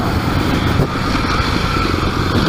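Kawasaki KLX300 dual-sport motorcycle being ridden, a close, steady engine drone with a buzzy low thrum and rough wind noise, no talking.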